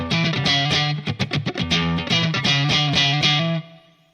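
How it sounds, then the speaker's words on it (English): A Line 6 Pod HD500 running its Fender Deluxe Reverb normal-channel model with sag at zero carries electric guitar: quick, choppy strummed chords, then sustained strikes, loud and up front, fading out at the end. "Here's the sag at 0."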